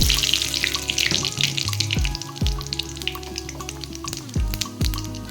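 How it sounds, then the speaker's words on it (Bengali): Cumin seeds, dried red chillies and bay leaf tempering in hot oil in a kadai, with a steady crackling sizzle and a few sharp clinks from a utensil against the pan. The sound is close and loud throughout, with no talking. "এখানে জিরে শুকনো লঙ্কা তেজপাতা আছে এটা ফোড়ন দিয়ে নেব"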